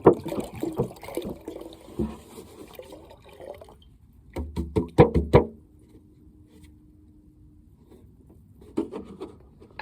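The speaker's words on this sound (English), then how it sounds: "take this off here, and then, wow, it's even dripping now. And then dump it into that bucket over there" Maple sap from a backyard maple tree dripping and then dumped into a bucket, heard as soft watery sloshes and a burst of splashy pouring midway, with quieter handling sounds around it.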